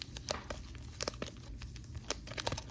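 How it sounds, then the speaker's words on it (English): Pokémon card booster packs are ripped open, with sharp foil tearing and crinkling in quick irregular bursts, close and crisp, with no talking. "ripping packs here"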